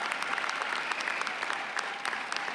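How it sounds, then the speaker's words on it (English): An audience at a college commencement ceremony claps steadily, a dense even patter of many hands heard from within a large crowd, sustained throughout with no voices over it. "That deserves some applause."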